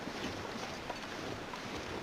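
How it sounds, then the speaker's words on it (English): Steady wind blowing across an open outdoor landscape in the survival video game The Long Dark, a continuous broadband rush with no clear gusts, heard alone at moderate level. "Yeah, it's windy, but not so windy that my torch is going to blow out."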